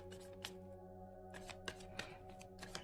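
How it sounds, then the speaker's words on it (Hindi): Tarot cards are shuffled by hand in quiet, soft riffling and tapping bursts, with a few small clicks at irregular intervals over a steady low hum. "एंड शफल कर लेते हैं कार्ड्स"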